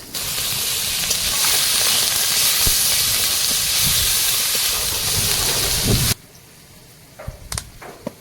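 Onion, garlic and ginger hit hot oil with black cumin and spices, giving a loud, steady sizzling hiss up close that cuts off abruptly, leaving faint clatters.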